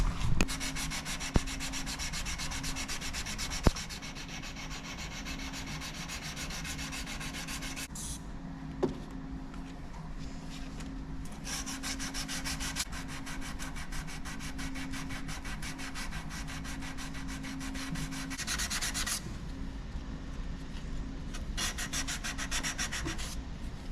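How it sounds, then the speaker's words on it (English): A belt sander fitted with a 150 grit belt grinds a hand-forged Damascus steel Bowie knife blade in a workshop, producing a continuous abrasive rasping hum with steady intensity, a few sharp clicks near the start and brief shifts as the blade is repositioned. "So we're gonna just do a little bit of a 150 grit on the belt sander"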